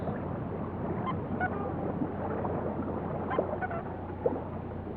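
Spring wildfowl on a cold Patagonian lake, including Chiloe widgeon, white-winged coots and red shoveler ducks, call in scattered nasal honks and quacks over a constant low outdoor rumble, moderately distant.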